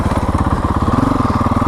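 A Honda CRF 450L motorcycle fitted with an FMF Q4 exhaust, ridden through woods with a weighted flywheel: a close, rapid, rhythmic engine thrum with steady exhaust pulses, loud and unbroken.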